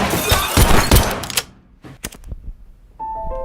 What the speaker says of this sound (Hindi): हान यहाँ पर उसके साथ धोखा करने के लिए मंचोल को गोलियों से भून देता है